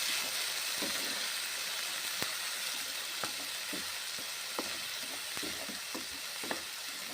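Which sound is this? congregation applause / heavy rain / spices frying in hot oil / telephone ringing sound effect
spices frying in hot oil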